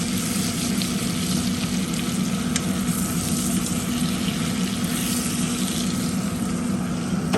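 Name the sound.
steaks sizzling in cast iron pan after flipping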